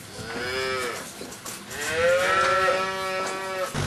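Young dairy calves bellow at feeding time after milking, giving two loud, drawn-out moos close by, one after the other.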